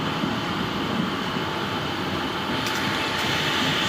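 Inside a moving local train, a steady, loud rumble of wheels and carriage noise fills the air without a break, and no one speaks.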